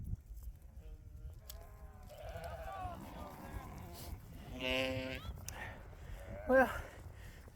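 Sheep bleat a few times, one sharp higher call near the end, while a man calls out over a windy, rumbling outdoor background.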